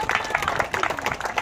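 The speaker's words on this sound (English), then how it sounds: "let's give a big round of applause for Regina Patterson" An audience claps at a bus driver award ceremony, a dense, fairly close round of applause sustained throughout.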